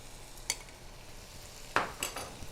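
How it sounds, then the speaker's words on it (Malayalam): Crab masala with salt is stirred in a pan over a low, steady sizzle, with a few scattered scrapes and clinks of the spoon against the pan. "ഇപ്പം ഇടയ്ക്കിടയ്ക്ക് ഇളക്കിക്കൊണ്ടിരിക്കുക."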